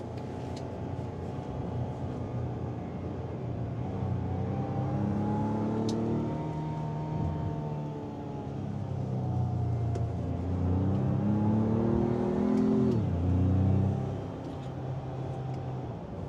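A pickup truck engine revs steadily, its pitch climbing and dropping as the transmission shifts through gears, with a constant low rumble throughout.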